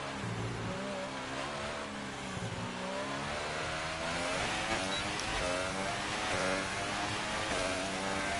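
An F1 car engine screams through a lap in the game F1 2018, a loud, continuous high-revving whine that rises and drops through gear changes, with no talk.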